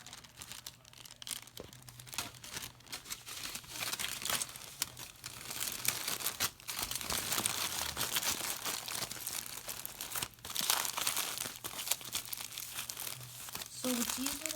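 Tin foil is crinkled and pressed around a homemade pet snack ball, producing continuous close crackling and rustling with brief pauses, while a person talks over it.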